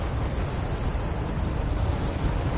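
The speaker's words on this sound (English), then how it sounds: "Got a Buratino strike here, emptying that town." Thermobaric rocket strike from a TOS-1 Buratino in Wargame: Red Dragon, heard as a dense, steady rolling roar of explosions that fills the whole moment at high loudness, with no talking.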